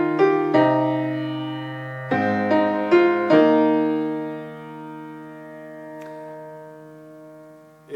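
Solo piano plays a riff at tempo, a few ringing chords struck in clusters then left to decay into quiet near the end.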